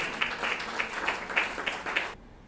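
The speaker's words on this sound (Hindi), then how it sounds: "एक बार सब जोरदार तालियां बजाकर साक्षी को।" An audience at a Hindi kavi sammelan poetry gathering claps to welcome a poet to the stage, a dense, rhythmic applause with regular swells that stops abruptly near the end.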